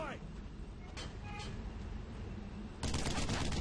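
Gunfire in the World War II shooter Brothers in Arms: Road to Hill 30, with scattered shots under a steady battle rumble and a dense, louder burst of firing near the end.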